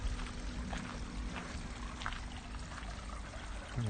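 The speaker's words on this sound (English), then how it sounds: "And get the sound of running water." Running water at Trentham lake and Italian gardens flows as a constant faint rushing and trickling wash, soft and steady outdoors with no talk.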